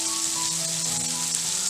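Spice powders sizzle loudly in a pan of browned onions and oil, a steady close hiss that runs unbroken throughout.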